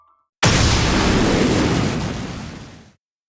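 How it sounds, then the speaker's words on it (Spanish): A single loud explosion bursts in abruptly and then roars on as a dense, rumbling blast that slowly fades out over a couple of seconds, heard alone. "Una explosión."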